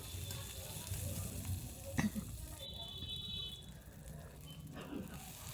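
Chopped onion hits hot oil already tempered with nigella seeds and chilli, giving a steady close sizzle and crackle with a brief louder clatter as it goes in, under light background noise.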